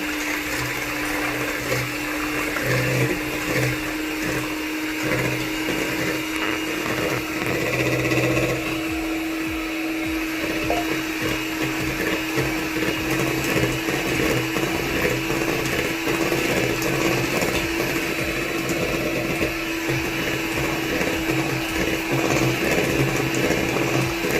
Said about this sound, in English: we're going to use an electric mixer to whisk it